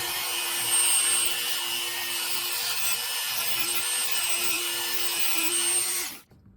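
A rotary grinder grinds down the head of a rivet on a Zebco 55 fishing reel with a steady, fairly quiet whine for about six seconds before cutting off abruptly.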